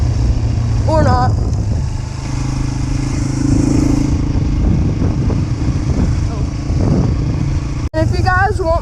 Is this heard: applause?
no